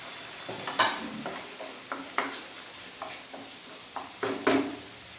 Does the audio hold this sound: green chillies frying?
yes